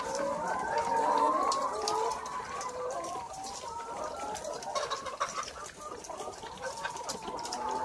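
Laying hens in a simple coop cluck and murmur in an overlapping, busy chorus, fairly close and steady throughout.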